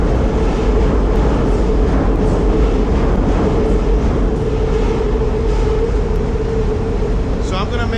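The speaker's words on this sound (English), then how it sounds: "the train's about to pass." A train rumbling past close by in an urban neighborhood, a loud continuous roar and grinding rattle of wheels on rails holding steady throughout, with a brief high squeal near the end.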